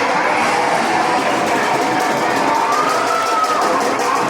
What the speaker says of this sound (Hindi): एक बार जोरदार तालियां जोरदार जी के लिए।